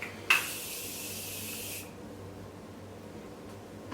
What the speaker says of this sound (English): I am going to lock this all in with the Morphe Continuous Setting Mist.